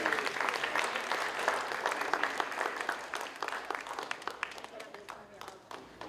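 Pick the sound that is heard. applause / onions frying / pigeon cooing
applause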